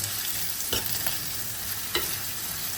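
Veg kurma curry frying and being stirred in a clay pot, a steady close sizzle with a few sharp scraping stirs of the spoon, no voices.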